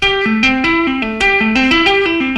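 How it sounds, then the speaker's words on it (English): A clean electric guitar plays a fast repeating tapped, string-skipping arpeggio pattern, bright notes cycling evenly up and down with no voices present. "This next lick is an example of applying string skipping to arpeggios over a chord progression."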